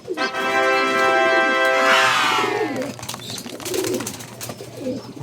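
Pigeons cooing in a loft among racing-pigeon fanciers, soft low coos behind a loud tonal sound at the start and someone speaking nearby.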